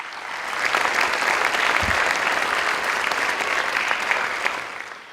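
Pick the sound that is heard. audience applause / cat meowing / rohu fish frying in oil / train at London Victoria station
audience applause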